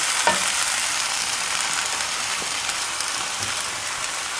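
Potatoes and onions fry in a pan with a steady, dense crackling sizzle that holds evenly throughout, with a few faint stirring scrapes and no talking.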